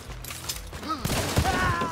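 Gunfire in the online shooter Hunt: Showdown, a rapid burst of shots and clattering mechanical noise, loud and dense, layered with in-game ambience.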